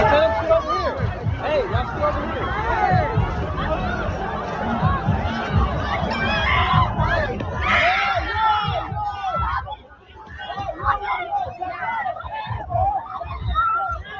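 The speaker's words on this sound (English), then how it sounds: "That's when people were surging in without tickets and they're already screaming" At the Astroworld festival a large crowd screams and shouts as people surge in, a dense, loud roar of many voices that thins out toward the end.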